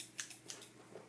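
Gummed-up scissors snip paper in a few quick, crisp cuts close by, two brighter snips followed by softer ones, with no talking.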